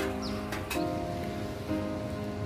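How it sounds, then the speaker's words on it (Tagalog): Light rain falls steadily outdoors on a city street in Malaysia, a continuous soft patter with a few brief louder spatters and faint background noise, no voices. "medyo maulan-ulan ngayon"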